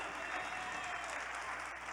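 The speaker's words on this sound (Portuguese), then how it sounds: "dê uma salva de palmas a Jesus" Congregation applauding for Jesus during a Portuguese-language church sermon, a steady dense wash of clapping, loud and even from start to finish.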